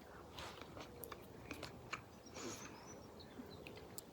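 Someone bites into a raw, sharp-tasting damson plum by a canal and chews it. Faint, soft chewing and crunching sounds up close, with light bird chirps in the quiet background.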